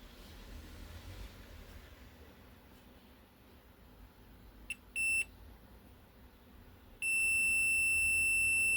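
A steady high-pitched electronic buzzer tone switches on and holds, after a couple of brief beeps, over faint background hiss, the buzzer sounding at about 1.3 volts on a test bench.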